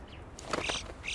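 A yellow-billed alpine chough from the Alps gives a short call, a couple of faint, high, slightly harsh notes over low background noise.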